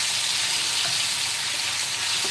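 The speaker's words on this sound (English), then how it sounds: "Hear that sizzle? That's when you know it's nice and hot." Turkey strips sizzling in hot oil in a wok for a spicy stir fry, a steady, moderately quiet crackling fry with small pops, heard alone without talk.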